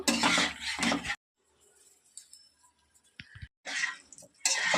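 Chopped tomatoes are stirred into a pan, giving loud scraping and clattering bursts of a utensil against metal. A quiet pause with small taps splits them.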